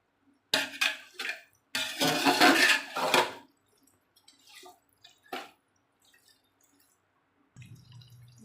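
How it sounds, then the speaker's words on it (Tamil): Soaked jeeraga samba rice being drained for mutton biryani, with bursts of water splashing and trickling near the start, then scattered soft drips and a faint low run of water toward the end. "தண்ணியை ஃபுல்லாக வடிகட்டி எடுத்துடணும்"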